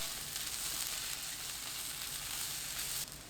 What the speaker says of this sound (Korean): 팬에 식용유 1큰술, 어묵, 당근 넣고 센 불로 3분 볶아주세요